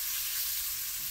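Sweet potatoes with caramelized onions fry in a pan, giving a steady, close, dense sizzle that continues without a break and without any talk.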